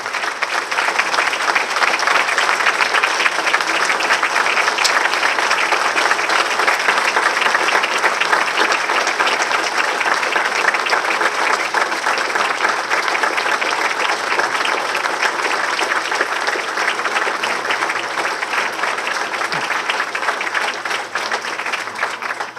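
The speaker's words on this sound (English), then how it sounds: "give a big round of applause to these families who are here today" A ceremony crowd in Somerville gives sustained, even applause for military families at a heroes salute, dense steady clapping lasting over twenty seconds with no voices.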